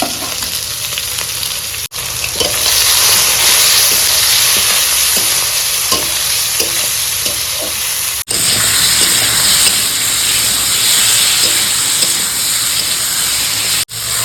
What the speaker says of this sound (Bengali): আলুটা মশলা থেকে ভেজে নিচ্ছি